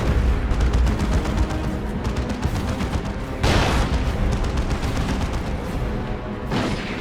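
Dense, rapid auto cannon fire in the video game Dawn of War 2 pounds steadily throughout, with heavier bursts of blasts around the middle and near the end, loud and close.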